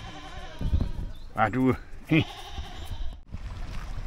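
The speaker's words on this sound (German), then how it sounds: "Und das Geißlein ist wohl seinem Gehege entfleucht." A young goat loose from its pen at a campground bleats in short, wavering calls, with someone talking over a noisy outdoor background.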